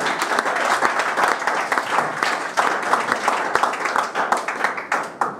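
A church congregation at a salvation meeting in Morocco applauds in praise, a loud sustained wash of many hands clapping with irregular pulses and accents throughout.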